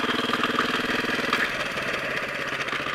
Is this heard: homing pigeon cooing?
no